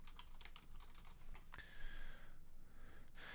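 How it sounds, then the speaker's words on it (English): Rapid clicking of keys on a computer keyboard as a git clone command is typed, a steady run of close, crisp keystrokes with no voices. "then we're going to type in git clone"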